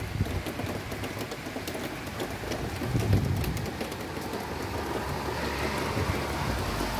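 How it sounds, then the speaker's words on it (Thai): Steady rain pours through a heavy storm for the whole stretch, a dense hiss close by with birds cooing faintly in the background. "แค่ฝนกับพายุ"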